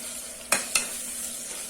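Ginger, garlic and tomato sautéing in a pan for coconut milk rice, a constant sizzle with two sharp spatula scrapes close together, no voices.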